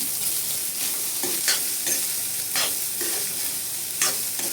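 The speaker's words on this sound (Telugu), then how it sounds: "ఇప్పుడు టేస్ట్కి సరిపోయినట్టుగా సాల్ట్ అయితే యాడ్ చేద్దాము. బాగా కలిపేద్దాం." Fried rice with salt gets tossed and stirred in a hot pan, a continuous sizzle broken by rhythmic scraping strokes of the spatula, close and fairly loud.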